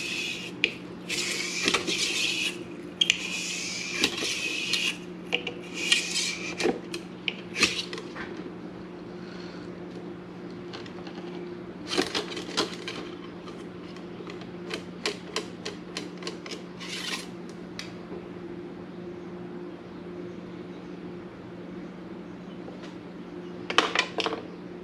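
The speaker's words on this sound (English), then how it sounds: "I'm going to run the brush through it again" A cleaning brush scrubs the inside of a very dirty gun clamped in a Tipton Best Gun Vice. It makes scratchy rasping strokes in irregular bursts with gaps between them, faint and close over a steady low hum.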